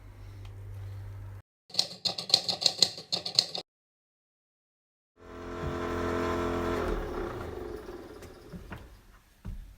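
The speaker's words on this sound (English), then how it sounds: "what you heard there was a blower" A wooden boat's bilge blower whirs steadily for a few seconds after a brief burst of clattering machinery and a pause of silence.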